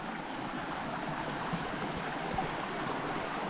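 Creek water running steadily beneath a small wooden footbridge in Victoria's High Country bush, a continuous soft rushing wash without voices.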